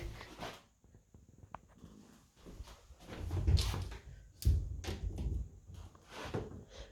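Doors of an empty three-door wardrobe being opened and closed during a room inspection, giving a few soft knocks and thuds spread across the stretch, fairly quiet and close.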